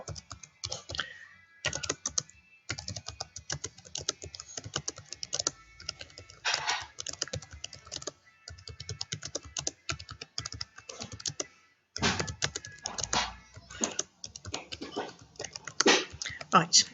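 Rapid typing on a computer keyboard while an email is written, bursts of close, crisp key clicks broken by short pauses, with a voice speaking over parts of it.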